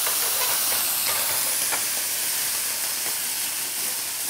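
Splash of wine hitting a hot frying pan with pepper inside, a loud, steady hiss and sizzle filling the whole stretch, close and unbroken, with no voices.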